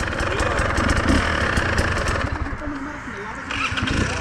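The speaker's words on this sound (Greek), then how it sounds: "Είναι γαμάτο μηχανάκι." A small motorcycle runs with a rough, pulsing engine note on a stony climb, steady but uneven, heard close while people talk over it.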